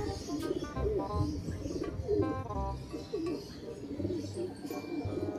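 Racing pigeons coo steadily in a loft after the first lap of an Agoo, La Union race, with soft layered calls repeating close by over a busy bird chorus.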